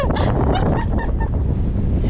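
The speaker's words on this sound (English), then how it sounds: "Oh, told you it was windy." Loud, roaring wind blasting the microphone, with brief honking bird calls faintly cutting through the gusts.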